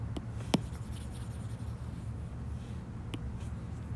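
Someone erases writing from a board during a calculus lesson, a faint, soft rubbing over a steady room hiss, with a couple of light taps.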